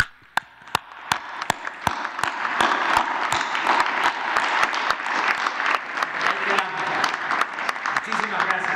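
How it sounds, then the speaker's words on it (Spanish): At a press conference, the room applauds the doctors. It begins with a few sharp, separate claps, then builds into sustained clapping from a moderate crowd, with distinct loud claps standing out throughout. "Lo que les vamos a dedicar a los médicos es un aplauso."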